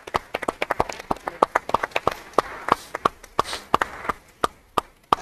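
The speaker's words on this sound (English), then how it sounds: "How about a round of applause for that?" Applause from a conference audience at a fintech event, a scattered run of individual claps rather than a dense roar, fairly close and moderately loud, with no talking over it.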